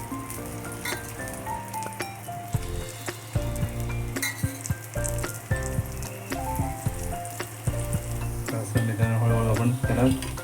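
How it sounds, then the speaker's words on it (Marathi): Okra (bhindi) frying crisp in oil on a tawa, a dense continuous sizzle with frequent spatula taps and scrapes against the metal, close and busy throughout. "आता हे थोड्या वेळाने आपल्याला पलटी मारून पण घ्यायचे आणि दोन्ही साईडने मस्त क्रिस्पी फ्राय करून घ्यायचे"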